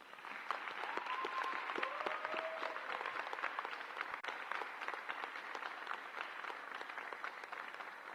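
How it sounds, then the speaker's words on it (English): An audience at a university commencement ceremony applauds a student award winner, sustained dense clapping from a large crowd heard at a distance, with a few faint whoops early on. "Let's give one more round of applause for all those student winners and faculty and staff of the year."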